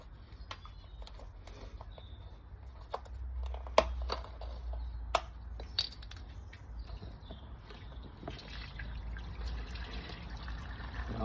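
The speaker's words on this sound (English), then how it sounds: "make sure that that top of that rib is covered with the juice" Pineapple and coconut juice trickles and drips over a rack of ribs in a pan, a faint close liquid pour dotted with small taps and clicks, with no talk.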